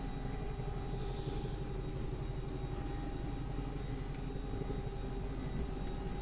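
Bell 222 helicopter hovering in the X-Plane 11 flight simulator as a London air ambulance, a steady droning rotor and engine hum with constant rumble, even and unbroken throughout.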